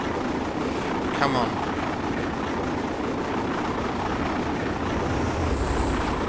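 An LNER A2 steam locomotive runs hard under deep throttle at speed, giving a loud, dense roar that holds steady throughout, with a faint whistle-like tone late on and someone speaking briefly over it.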